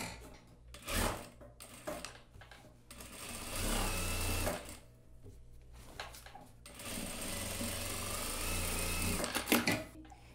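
Straight-stitch sewing machine reinforcing a blazer waist seam, running in several bursts of steady rapid whirring separated by short pauses, close and fairly loud with no talk.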